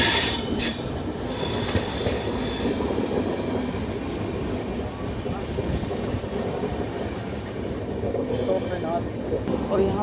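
The Tamil Nadu SK Express 12652 runs near Mathura Junction with a constant rumble of wheels on rails, some squealing and clickety-clack, loud and close throughout, while someone talks over it.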